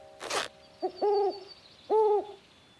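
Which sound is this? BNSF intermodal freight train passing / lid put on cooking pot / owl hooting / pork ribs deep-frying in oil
owl hooting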